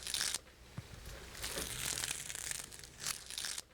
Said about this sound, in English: I peel off the tape